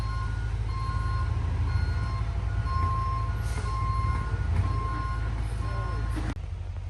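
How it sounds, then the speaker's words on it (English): An excavator labours to drive out of a ditch at a woodland cabin site, its heavy engine rumbling steadily beneath a repeating high beeping alarm, before a sudden knock and a quieter, steadier drone near the end. "Trying to get the excavator out of the ditch."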